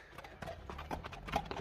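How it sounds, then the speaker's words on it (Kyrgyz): A bay horse walks in a Kyrgyz village, its hooves clip-clopping in a quick, soft rhythm of several light steps, faint and close. "күрөң ат сатылат экен."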